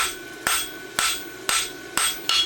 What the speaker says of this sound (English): So I'm just trying to do overlapping blows with the round side of my hammer.